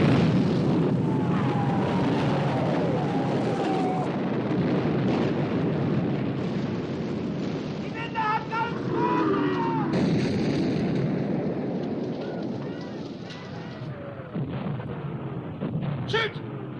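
Heavy naval gunfire as warships fire at the battleship Bismarck: sustained booming blasts and rumbling detonations under a dense roar, with shouted voices over the barrage.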